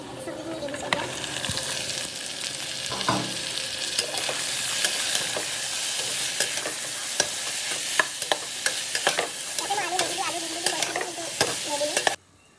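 Vegetables sizzling in hot oil for pulao, a loud continuous frying hiss with scattered clinks and scrapes of a spoon stirring in the pan, ending abruptly.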